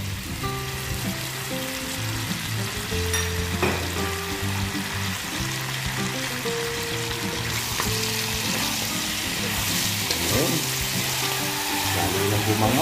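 Pork belly fries in a pan as oyster sauce goes in, a steady sizzle running throughout with occasional stirring scrapes, with faint background sounds and some music-like tones underneath.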